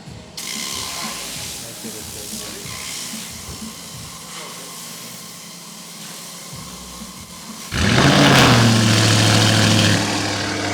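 A car engine is cranked by its starter and then catches, roaring loud and steady with a low rumble and hiss after a stretch of quieter mechanical whirring and ratcheting.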